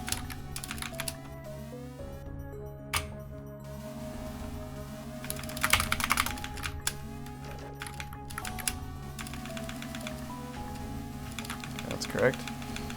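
Computer keyboard typing clatters in rapid irregular key clicks with occasional louder shift-key presses, close and continuous over a game's background music.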